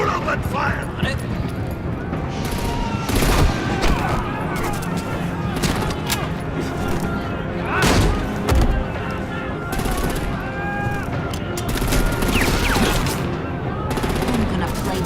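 Gunfire in the Batman Telltale game, sustained bursts of automatic weapons and single shots crackling loudly throughout a combat scene, with voices shouting lines over the shooting.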